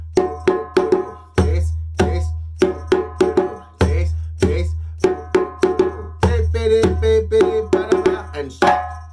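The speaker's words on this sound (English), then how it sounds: "Now we're going to put that with the break together to begin with it." West African djembe rhythm played as a break: sharp slaps and deep bass strokes in quick accented bursts separated by pauses, loud and close, with several drums joining for a dense flurry near the end.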